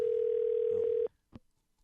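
A telephone dial tone rings out as a steady, loud tone for about a second while a call is placed to a university athletic department, then cuts off into near silence with a faint click.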